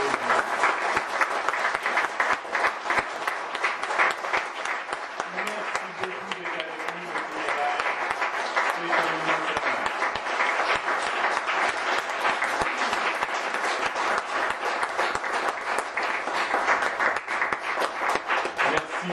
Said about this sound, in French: Je vous demanderai de l'applaudir chaleureusement.